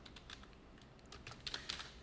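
Quiet typing on a computer keyboard as a JSP file name is entered, a short run of light, irregular key clicks with no talking.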